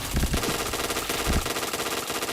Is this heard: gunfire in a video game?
yes